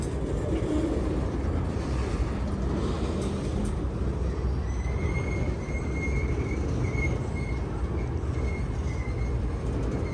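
A train, including a covered hopper car, rumbles past a railroad crossing at close range, wheels clattering under a steady roar, with a thin metallic wheel squeal rising in the second half.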